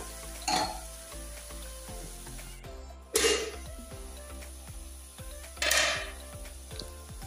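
Banana stem fries in a pan with a low continuous sizzle, broken by three sharper scraping or stirring bursts spaced a few seconds apart and some light clatter.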